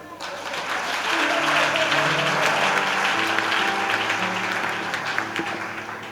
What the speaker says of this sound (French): Si tu veux acclamer, il faut acclamer.